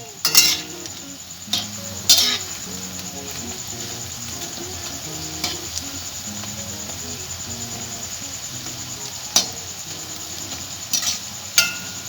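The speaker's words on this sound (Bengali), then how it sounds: "এবার লাল করে আমি পকোড়াগুলো ভেজে নেব।" Potato pakoras sizzle steadily in hot oil, a constant crackling fry broken by occasional sharp clinks and scrapes of a utensil stirring against the pan.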